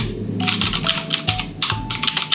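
Rapid, crisp clicky keystrokes on a Drop ALT 65% mechanical keyboard, close up and steady in short bursts with brief pauses, no talking.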